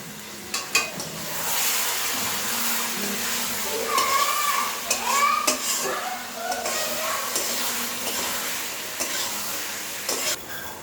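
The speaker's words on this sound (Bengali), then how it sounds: "যার জন্য এই যে মশলার জলটা আছে জাস্ট হালকা পরিমাণ দিলাম, দিয়ে পরে কষতে থাকবো।" Chicken maharaja gravy masala sautéing in a pan after a splash of spiced water, with steady sizzling and frying hiss and scraping stirs throughout.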